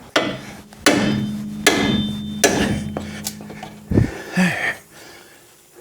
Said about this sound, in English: So I'm gonna go grab my pickle fork and a bigger hammer.